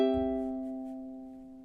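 A single ukulele chord from a song is struck once and left ringing, its sustained tone fading slowly, close and alone.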